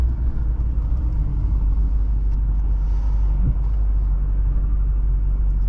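A 1970 Mercedes-Benz 300SEL 6.3 runs with a steady, low rumbling drone heard from inside the car, even and continuous with no voices.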